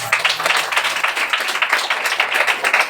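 A church congregation claps hands for the Lord during a Hindi worship service, rapid rhythmic clapping from many people that stays loud and even from start to finish.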